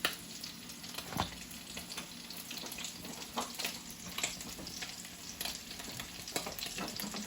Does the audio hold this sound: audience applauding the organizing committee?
no